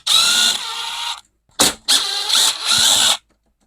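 A power driver backs out the screws holding the ignition coil on a McCulloch string trimmer, giving three loud, close, whirring bursts separated by short pauses.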